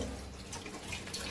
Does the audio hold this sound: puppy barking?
no